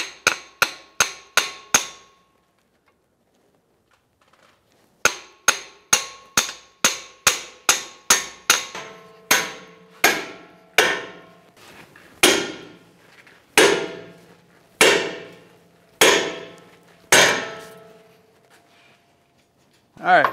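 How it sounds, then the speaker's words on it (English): A small hammer lightly tapping a pickle fork on the front suspension of a 2007-2013 Acura MDX during a passenger-side CV axle replacement: a quick run of sharp metallic taps, a pause, then steady repeated ringing strikes, close and loud. "So we're using just a small hammer, some light taps to get it in where we need to."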